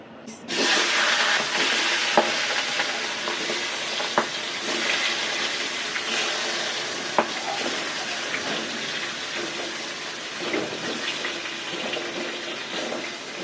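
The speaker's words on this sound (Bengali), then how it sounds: "মাছটা এখন ভেজে নেব" Rui fish frying in hot oil gives a loud, steady, broadband sizzling hiss that holds close and constant throughout, with a few small pops and crackles and no voices.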